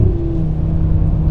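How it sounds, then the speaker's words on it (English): An Audi RS3 Performance Edition's five-cylinder engine drones steadily from close by, a low, rumbling burble with an even tone, briefly heard on its own. "the 5-cylinder still manages to sound good through all of that."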